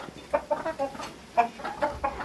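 Chickens and a large rooster cluck in short, quick bursts close by, one call after another, against a quiet background on a goat farm.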